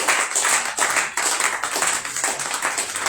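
A church congregation claps in acclaim of Jesus Christ during a worship service: dense, rhythmic clapping in steady repeated bursts, fairly loud and continuous, with no clear voices on top.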